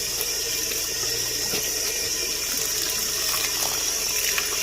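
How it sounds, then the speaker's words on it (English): Tap water runs continuously over dyed fabric being rinsed, a steady, close hiss and splash with no talking. "You just rinse and rinse and rinse until the water goes clear."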